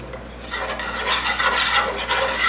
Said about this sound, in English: I'm just going to stir this up until it becomes a light golden color